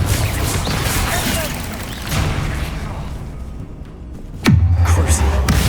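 Confringo fire-blast spells in the Hogwarts Legacy game, several booming impacts and crackling explosions amid combat noise, ending in a sharp loud blast followed by a rumbling tail while someone speaks over it.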